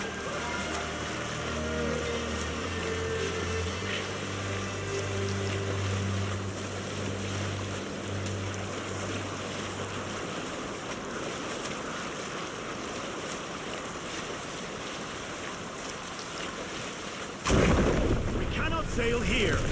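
A sailing ship in Assassin's Creed Valhalla moves across the sea, with a constant wash of waves and wind under low creaking hull tones, ending in a sudden louder splash and rush near the close.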